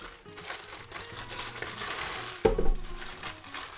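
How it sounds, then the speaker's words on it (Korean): Plastic wrap crinkles and tears as it is peeled off a new Ultimate Stand GS-200 guitar stand just out of its box, a steady close rustle that ends in a sharper crackling burst. "비닐을 이렇게 벗겨주면"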